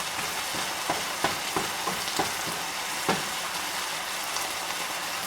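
An egg fries in a pan pushed aside with only a little oil, giving a steady close sizzle broken by a few sharp utensil scrapes and taps against the pan.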